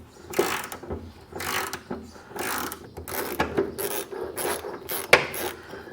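A ratchet wrench works a rusty nut loose on an 1986 Chevy K30 truck cab, rapid clicking bursts repeated in short strokes, close and fairly loud with no talk.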